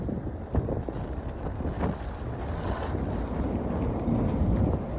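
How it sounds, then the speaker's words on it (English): Loud, cold wind outside Summerhill subway station in Toronto buffets the microphone with a continuous low rumbling roar, gusting stronger toward the end, with faint outdoor noise beneath. "It is freaking windy."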